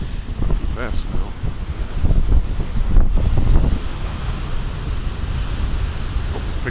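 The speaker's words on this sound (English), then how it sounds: "Hope it's picking up the sound of the waves like the thunder." Big ocean waves crash against the rocky shore by Beavertail Lighthouse, a steady roaring surf with wind buffeting the microphone and swelling surges around the middle, while someone talks over it.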